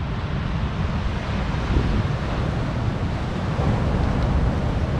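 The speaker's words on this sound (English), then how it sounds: "But man, oh man, is the lake raging today." Rough lake waves driven by a northeast wind in snowy weather, a steady roaring wash of surf with heavy wind buffeting the microphone, loud and continuous, swelling slightly near the end.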